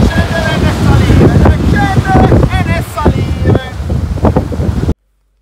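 Loud, rough wind buffeting the microphone on a mountain nearly throughout, with a voice talking underneath before it cuts to silence.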